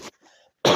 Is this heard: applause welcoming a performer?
no